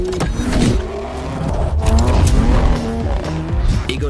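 Sports car driven hard in sport mode through corners, with loud engine revs rising and falling alongside brief tire squeal, steady and close throughout without talk.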